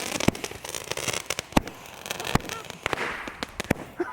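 Fireworks burst close by in Wyoming, a rapid irregular run of loud pops and crackles, with excited voices calling out between the blasts.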